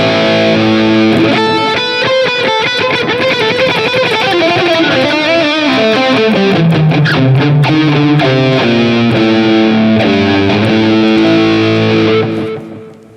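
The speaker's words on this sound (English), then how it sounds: "in some cases it's also engaging the chorus on the distorted tones" Electric guitar played through a NUX MG-30 modeler on a high-gain distorted tone with chorus engaged, loud and sustained with chords and single-note lines ringing out alone for about twelve seconds before cutting off.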